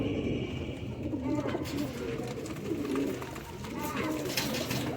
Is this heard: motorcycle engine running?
no